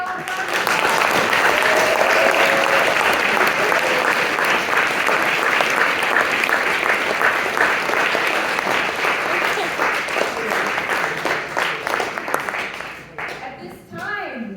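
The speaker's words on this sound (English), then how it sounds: "Let us all give them another very loud round of applause." A debate audience breaks into loud, sustained applause right after a school debate, dense clapping filling the room for over twelve seconds before tapering off near the end.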